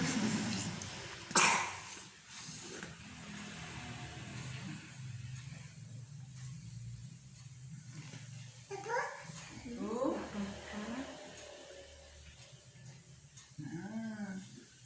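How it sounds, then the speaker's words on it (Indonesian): A child's sharp cough bursts out near the start, followed later by a few short whimpering vocal sounds over a low background hum. "Ini anaknya sedang batuk"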